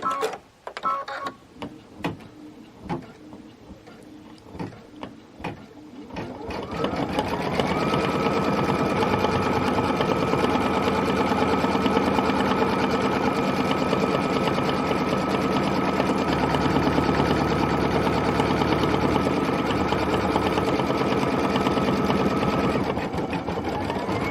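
Sewing machine stitching the edges of a pink fabric box, starting after some handling noises, then running steadily and loudly in a continuous mechanical whir with a regular stitching rhythm for most of the clip.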